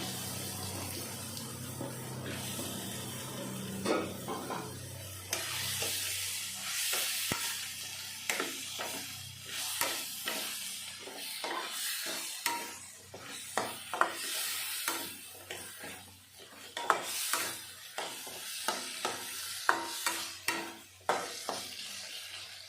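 Spring onion stalks sizzle and fry in a pan as the base for a katla fish curry, with a steady hiss broken by stirring scrapes and clatter close by.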